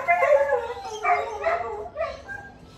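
Dogs bark and howl excitedly at a passing fire engine, several loud overlapping bursts of yipping and howling close by over about three seconds.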